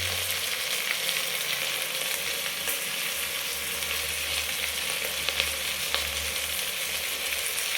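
Fish fries in a pan with a steady, close hiss of bubbling oil and small pops, continuous throughout with no talking.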